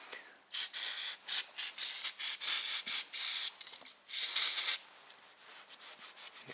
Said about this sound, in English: here I'm gonna use a tiny bit brake cleaners